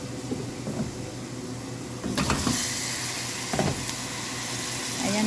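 Onions frying in a pan with turmeric powder and salt, a soft steady sizzle under low rumbling background noise, swelling brighter and louder after a couple of seconds with a few scraping stirs.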